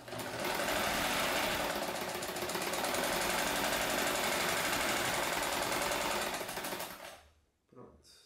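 A sewing machine stitches a homemade PSP case, running loud and steady for about seven seconds with a dense, rapid mechanical chatter, then stopping abruptly, followed by a brief soft bump.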